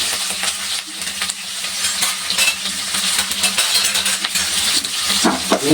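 Finely chopped onions with curry leaves frying in hot oil in a pan for a potato kuzhambu, steady close sizzling and crackling with occasional stirring scrapes.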